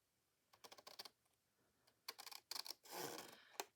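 An index card file folder is cut in a quiet indoor setting, giving a string of close, light snipping clicks followed by a longer scraping slice near the end.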